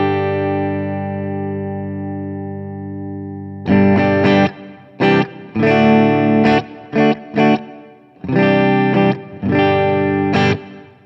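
Electric guitar playing a clean tone through a budget pedalboard into an amp with built-in reverb: a sustained ringing chord fades, then several loud strummed bursts follow in uneven rhythm, close and alone with no talk.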